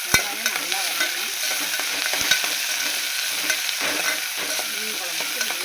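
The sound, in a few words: small onions sizzling while being sautéed in a pan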